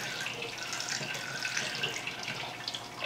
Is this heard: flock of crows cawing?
no